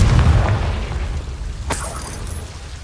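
A Confringo fire spell explodes in the Hogwarts Legacy video game, opening with a loud low boom that fades into a rumbling tail, followed by a sharp crackling burst midway.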